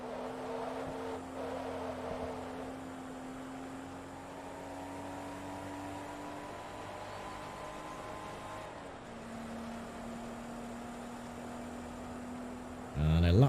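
A Porsche 914/6 engine held near 7,500 RPM in Forza Motorsport 2, a steady high whine with a brief dip and recovery, ending in a sudden louder burst.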